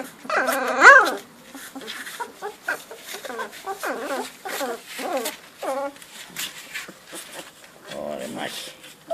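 Fifteen-day-old Epirus Molossus puppies yip and whimper over and over in high, thin bursts. The cries are fairly close and continue throughout, with a louder yelp near the start.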